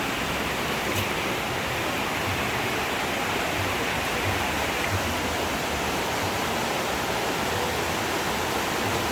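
A flood-swollen river rushes past a farm after a night of heavy water, a dense, unbroken roar that stays loud and steady throughout.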